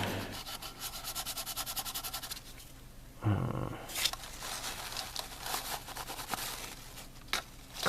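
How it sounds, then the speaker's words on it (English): Sanding on a Polar Lights 1/350 Klingon K'Tinga battle cruiser plastic model kit: a steady, rhythmic rasping rub for a couple of seconds, then a pause and more irregular scraping strokes, close up. "start sanding on it"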